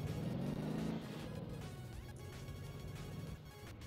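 A car engine in the Motor Town driving game drones steadily as the vehicle drives, a loud, close, continuous rumble that eases slightly after the first second, with no talk.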